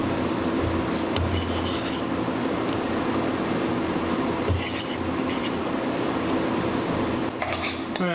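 Chopped hearts of palm and other ingredients for a vegan New England lobster roll stirred in a bowl, steady scraping and clinking of a utensil against the dish with scattered brighter metallic knocks.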